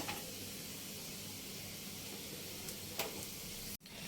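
Fried onion tempering, cooked until red, is poured over lentils and potatoes: a steady close sizzle and hiss runs throughout with a sharp crackle near the end, followed by a brief cutoff and the sizzle resuming.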